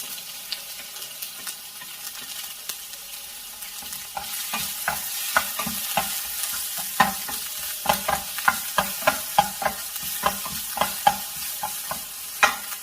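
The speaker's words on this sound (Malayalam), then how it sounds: "വെളുത്തുള്ളി മൂത്ത മണം വരുമ്പോൾ അതിലേക്ക് സവാള ചേർക്കാം" Chopped garlic and onion fry in a hot pan for a Kerala potato curry, a continuous sizzle broken by a rapid series of sharp scraping stirs that grow busier partway through, with no voices.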